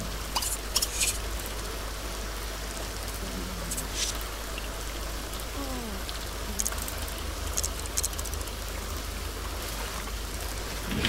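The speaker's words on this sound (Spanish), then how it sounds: "Bueno, se largó la lluvia, ¿eh?" Steady rain falls in The Sims 2, a continuous soft hiss of drops with faint scattered patters, heard alone with no talk over it.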